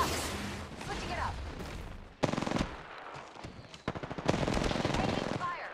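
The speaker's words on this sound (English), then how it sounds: "Taking fire." Rapid automatic gunfire in the video game Apex Legends comes in two loud, close bursts of fast, evenly spaced shots, with softer game effects and voice lines around them.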